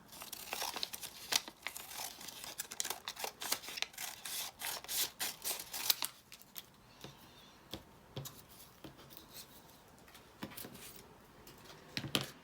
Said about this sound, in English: I think what I will do is refold and use this piece here and then cut it to the right length